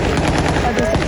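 Rapid bursts of gunfire from Taliban fighters crackle densely and continuously, loud and close, with a voice faintly mixed in.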